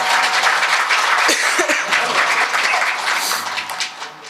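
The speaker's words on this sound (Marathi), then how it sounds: "एकदा जोरदार टाळ्या वाजवा" Loud, dense applause from an audience at a public kirtan devotional gathering in Madhya Pradesh. It runs steadily for about four seconds with a few scattered voices and chuckles, then thins out toward the end.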